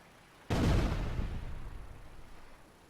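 A grenade explosion in GTA Vice City Stories, one sudden loud blast after a quiet start that rumbles and slowly fades over a couple of seconds.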